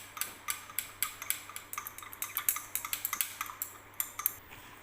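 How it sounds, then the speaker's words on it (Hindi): A glass rod or spatula stirring a solution in a glass beaker during titration prep for potassium permanganate analysis, giving rapid, irregular light clinks and taps, close and fairly quiet, with no talking. "देन इसको स्टर करते रहना है कंटिन्यू अनटिल जब तक ये डिज़ोल्व नहीं होता है, एंड स्टर इट वेल"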